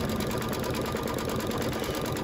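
Embroidery machine stitching the outline of a picture frame on a Halloween quilt block, a steady close, even whirring hum of rapid needle strokes running without pause.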